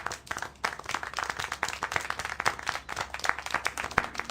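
Clapping in the video game Syberia IV, a dense run of hand claps carrying on steadily throughout at moderate loudness, with no talk over it.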